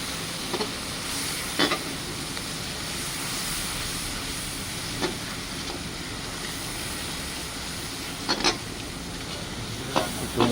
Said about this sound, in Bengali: একটু মশলাটাকে কষে নেবো।